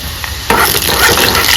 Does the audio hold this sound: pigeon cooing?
no